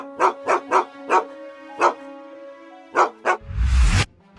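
A Rottweiler barks close and loud in a quick run of seven or eight sharp, evenly spaced barks with a pause midway, ending in a burst of rough noise.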